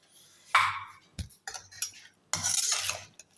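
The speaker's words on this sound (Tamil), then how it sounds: "நல்லா கிண்டி விட்டு" A spoon stirs peppered breakfast tiffin in a pan, making three distinct bursts of scraping and clattering strokes with short pauses between them, close and fairly loud, with no voices.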